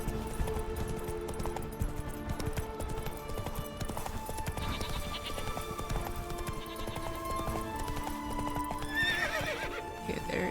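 A horse gallops in The Witcher 3, with rapid clip-clop hoofbeats carrying through the scene and a neigh or whinny breaking in, all set among layered game music and ambience.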